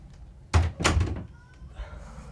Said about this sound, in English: If you could just, like, close the door.